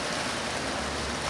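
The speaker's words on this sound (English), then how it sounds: "It's raining." Heavy rain pours down in Las Vegas as a dense, steady broadband hiss that fills the whole brief moment, loud and close with no pauses or voices.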